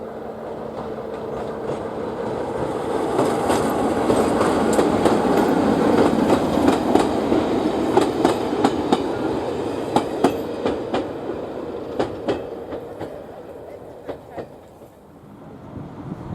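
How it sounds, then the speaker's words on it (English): Class 10 shunter locomotive Colonel Tom pulls empty stock, a Class 207 'Thumper' unit, into a loop on the Spa Valley Railway. A rolling rumble swells and fades with a steady run of wheel clicks over rail joints. "we see the resident Class 10 shunter Colonel Tom line heading into the loop with empty stock in the form of a Class 207 thumper"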